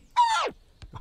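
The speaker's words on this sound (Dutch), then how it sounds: "Hoorde ik nou een kip?" A chicken in a pawn shop video game gives one close, loud, squawking cluck that falls in pitch, followed by two brief faint clicks.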